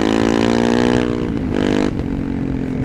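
A Honda CRF300 motorcycle with a tuned exhaust, ECU and airbox revs hard close by, holding a loud rising engine note before dropping back and revving again.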